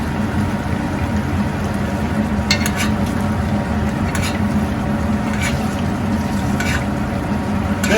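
Steaks cooked first in water sear in a hot pan, making a loud, dense, continuous sizzle close by with occasional brief scrapes and clinks of a utensil.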